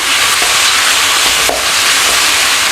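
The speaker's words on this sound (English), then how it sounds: "Just give that a little stir around." Pork sizzles loudly in a pan with soy sauce seasoning as it is stirred, a dense close frying hiss with a few soft spatula scrapes.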